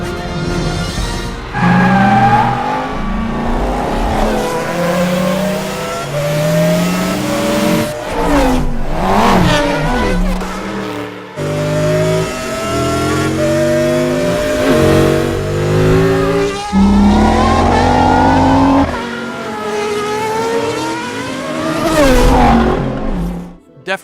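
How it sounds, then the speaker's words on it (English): Car engines from the Cars 2 sound design, recorded at Skywalker, with repeated loud revs and exhaust roars sweeping up and down in pitch, several passes close by with brief pauses. "Definitely a lot of the personality comes from the exhaust of the car."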